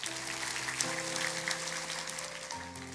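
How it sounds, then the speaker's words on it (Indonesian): A church congregation claps together in dense, sustained applause that fills the whole moment, with a low musical drone running beneath it. "Berikan tepuk tangan untuk Tuhan."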